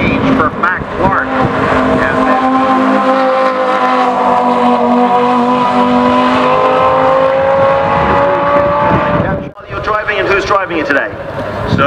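A McLaren 675 LT races past on a track, its engine a loud sustained roar that climbs steadily in pitch for several seconds before abruptly cutting off, then a rougher burst of engine noise with wind buffeting the microphone.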